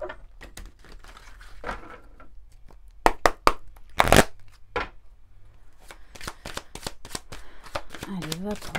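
Oracle cards shuffled by hand during a tarot-style reading, a run of crisp papery riffles and snaps, loudest in a burst midway, with a voice speaking near the end.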